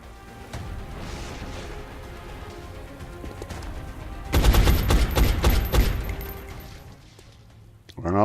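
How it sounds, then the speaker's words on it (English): Gunfire at a zombie in the video game XCOM: Enemy Unknown: a loud rapid burst of shots lasting over a second, echoing over quieter game ambience, with a sharp sound at the very end. "he is now shooting at a zombie"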